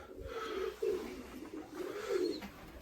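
Mirror pigeons softly cooing in a breeding loft, a few low rolling coos rising and falling over faint background rustle, fairly close with no talk.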